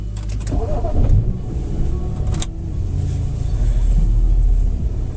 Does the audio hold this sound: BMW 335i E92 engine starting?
yes